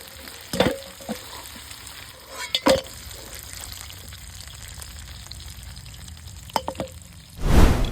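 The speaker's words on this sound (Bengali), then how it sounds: "মাছের মাথালা কিন্তু বেশ কড়া কড়া করে ভাজি নিয়ে" Fish heads crisp-frying in hot oil in a home kitchen, with a constant soft sizzle, several sharp stirring knocks against the pan, and a louder hiss and splatter burst near the end.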